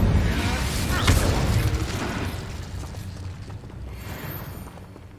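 An Incendio fire spell cast in Hogwarts Legacy erupts in a loud, rushing burst with a sharp crack, then tails off into a fading roar, with a voice talking over it.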